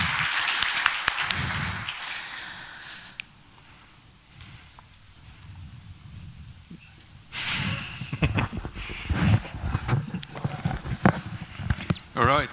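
At a supply-chain conference, the audience claps as two guests from H.Essers and Port of Antwerp-Bruges walk on stage. A few seconds of lively, close applause taper off into quiet room tone, and then people talk.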